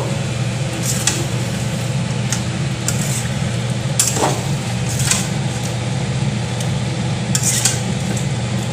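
A spoon stirs chicken curry seasoned with salt in a pan, giving intermittent scrapes and clinks at an uneven pace over a constant fan-like hum from the kitchen.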